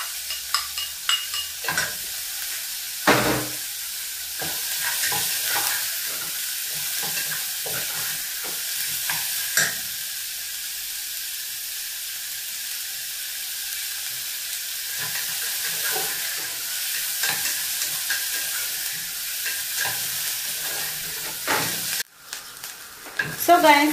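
Green pepper, onions and red pepper sizzle steadily in a pan for a wet fry omena dish, with repeated scraping knocks of a spoon stirring them; the frying stays loud and continuous throughout, with no talk.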